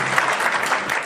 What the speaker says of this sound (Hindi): एक बार और ताली बजा दो भैया